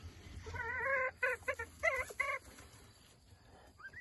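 Bantam chickens in a farmyard give a run of short, squawky clucking calls in the first half. The calls are fairly close, then fade into quiet background noise.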